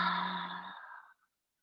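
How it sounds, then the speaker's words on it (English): A single open-mouth exhale, a soft breathy sigh that fades out over about a second, heard alone and close in a quiet yoga setting. "Deep inhale here. Open mouth exhale."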